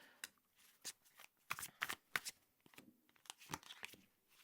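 Tarot cards are shuffled by hand in quick, soft riffles and slaps, close and quiet, with no voices.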